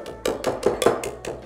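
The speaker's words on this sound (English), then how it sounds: "Shake off that whisk." A whisk taps a pot six times in a quick even rhythm, shaking off a dip, with close, bright metallic clinks and no talk.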